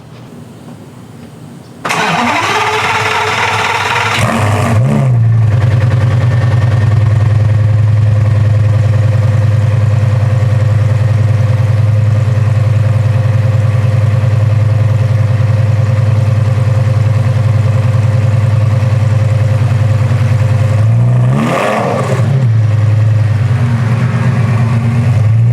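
A Mopar car engine cranks briefly, catches with a loud rise, and settles into a steady, close rumbling idle for about twenty seconds, followed by a short rev dip and continued idling.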